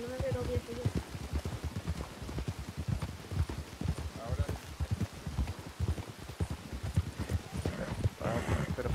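Horse hooves clip-clopping steadily in Red Dead Redemption II, a dense continuous run of rapid hoof thuds at a moderate level over a rainy-sounding ambient backdrop, with faint voices now and then.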